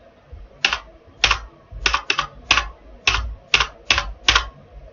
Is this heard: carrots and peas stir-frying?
no